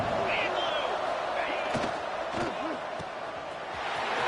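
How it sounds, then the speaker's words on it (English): A Boise State college football stadium crowd roars on third down, a loud, continuous wall of cheering and shouting that stays steady throughout, with brief whistles and shouts standing out. "This Boise State crowd bringing the noise. It's deafening here on third down."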